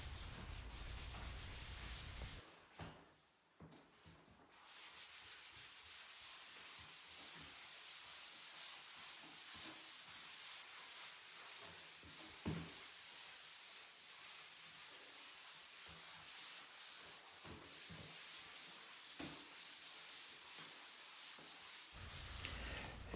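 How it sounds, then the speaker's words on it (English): Hand sanding of a skim-coated drywall surface, a steady dry scratchy rubbing that continues for about twenty seconds after a short pause near the start, close and moderately quiet with no talk. "sand the drywall with get it to a smooth texture that you can get to paint it"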